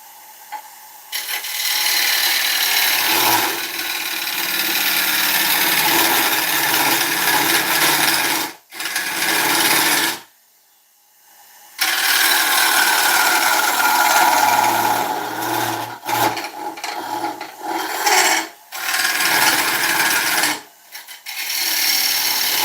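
An oak bowl turning on a woodworking lathe, the tool scraping and cutting in a loud steady rasp that runs nearly throughout, broken by a few brief pauses and one longer gap of near silence.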